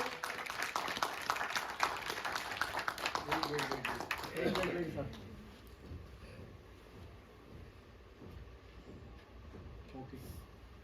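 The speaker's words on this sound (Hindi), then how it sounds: "जोरदार तालियां इस बात के लिए, इस चीज के लिए" An audience at a book release claps loudly in a dense burst that fades out after about five seconds, leaving quiet room noise with talk continuing.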